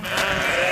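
A wild bighorn sheep gives a single loud, close bleat that lasts the whole short moment, with nothing else heard.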